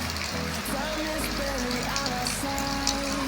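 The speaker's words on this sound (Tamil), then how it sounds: "இன்னைக்கு பார்த்தீங்கன்னா நம்ம ஊரில் செம்ம மழை" Heavy rain pours down in a village in Theni, a loud, dense, continuous hiss filling the whole stretch, with a faint voice heard over it.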